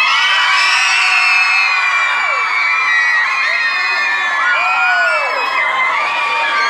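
A big crowd of fans at a meet and greet cheers, whoops and screams continuously, loud high-pitched yells and shouts layered into a steady roar.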